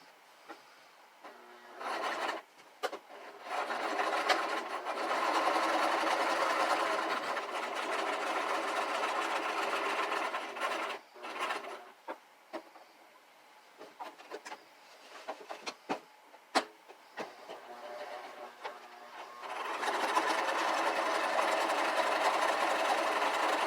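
A sewing machine stitches an oversized rubber band onto a fabric mask in several runs of fast, mechanical whirring, separated by quiet pauses and small clicks of handling, close and without talk.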